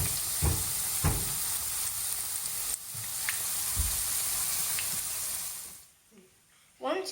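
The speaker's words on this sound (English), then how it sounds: "we've got some hot oil and we're going to spoon it and put it into the pan" Salt fish fritter batter frying in hot oil in a pan, a steady broadband sizzle with a few soft spoon clinks and stirring scrapes, dropping away near the end before a brief burst returns.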